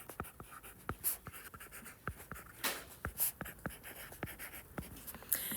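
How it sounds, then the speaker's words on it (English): A pen scratches out SOHCAHTOA by hand in short, irregular strokes and taps, close and fairly quiet, with no one speaking. "I'm going to write my SOHCAHTOA."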